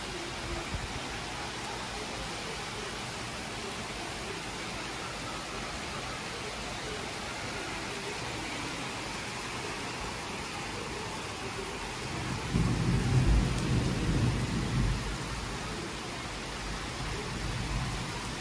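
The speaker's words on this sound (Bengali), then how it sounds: "বৃষ্টি হচ্ছে খুব জোরেই।" Heavy rain pours steadily in a hilly area, a dense broadband hiss that runs unbroken throughout, swelling briefly louder partway through before settling back.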